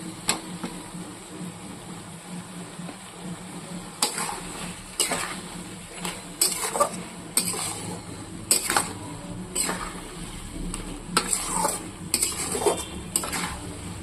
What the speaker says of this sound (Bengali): মশলা তো সুন্দর করে ভাজা হয়ে গেছে